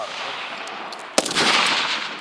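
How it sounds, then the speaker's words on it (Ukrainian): A single sharp gunshot during shooting practice cracks out, followed by a lingering echoing roar, over steady background noise. "Тренуються стріляти як з правої руки, так і з лівої"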